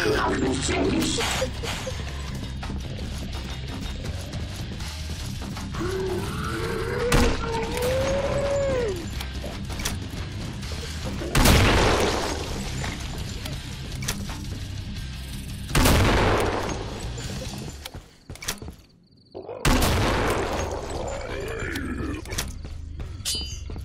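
Gunfire and explosions in the video game Killing Floor: repeated shots and booming blasts over dense game noise, with grunts and crashes, sustained and loud, under occasional talk.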